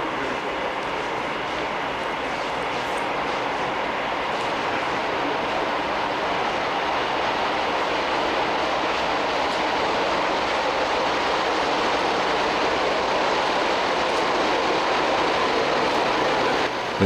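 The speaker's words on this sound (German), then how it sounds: "Ankunft des Sonderzuges im Bahnhof Gerolstein." A special train arriving at Gerolstein station in Germany, 1987, rumbles steadily, a continuous low roar of wheels and engine holding at a constant level with no voices.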